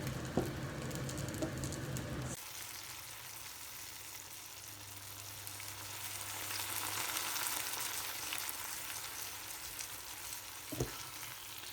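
Aubergine and mixed vegetables for Sicilian caponata frying in a pan, a steady close sizzle with occasional stirring scrapes and a few sharp knocks.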